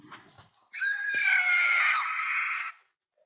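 A screaming novelty toy shaped like Edvard Munch's The Scream is set off, letting out a shrill, wavering electronic scream that holds for about two seconds and then cuts off, close and alone after brief handling noise.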